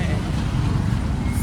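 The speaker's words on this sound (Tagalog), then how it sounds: "Super ingay ng traffic." Steady roar of road traffic, a continuous low rumble of passing vehicles with no break over the short stretch.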